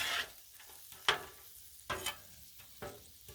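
Shrimp frying on a Blackstone griddle for shrimp fried rice, with a soft steady sizzle broken by a few sharp scraping stirs of a spatula against the flat steel surface, all close up and without any talking.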